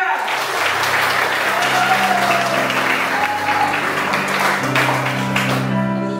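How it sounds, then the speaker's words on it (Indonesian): Sustained, enthusiastic applause fills a prophetic revival gathering in Desa Gajah, Asahan, loud and continuous, with music sounding underneath and faint voices in the crowd. "tepuk tangan yang terbaik yang pernah kamu punya"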